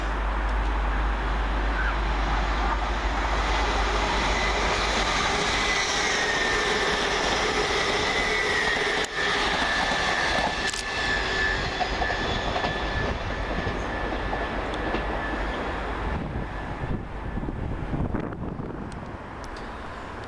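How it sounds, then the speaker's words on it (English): A Hull Trains class 802 unit, 802-305 on a Hull to London King's Cross service, rolls through Peterborough station with a loud, sustained rumble and hiss that holds steady before easing off, with wind buffeting the microphone. "Next, running about 10 minutes late for Hull trains is 802-305, working 1A94 from Hull to London King's Cross"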